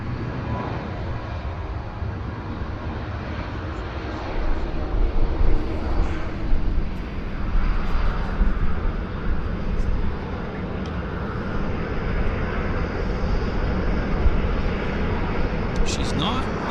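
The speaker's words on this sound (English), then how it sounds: "Never get tired of watching these aircraft perform." A large jet departing Vancouver Airport gives a steady, broad engine roar that swells slightly midway, heard from a distance, with no talk over it.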